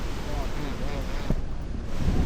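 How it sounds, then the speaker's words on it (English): Strong wind roars and buffets against the microphone in a steady, loud rush while riding a BMW R nineT Urban G/S motorcycle, with a faint voice briefly audible beneath it. "it is super windy"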